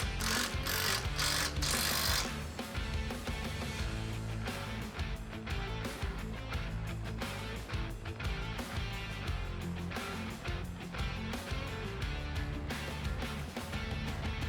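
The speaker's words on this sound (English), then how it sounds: "we're going to go ahead and high tension it with the rattle gun or a spanner" Impact wrench rattling as it high-tensions the bolts on a Rockarmor GT steel bull bar fitted to a PX2/PX3 Ford Ranger, a continuous loud mechanical hammering buzz with brief pauses, alone without talk.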